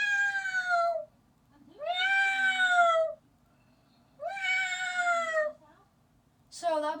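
A person imitates a cat's drawn-out howl or yowl, three long wavering meow-like calls with pauses between, then the start of a fourth, close and alone.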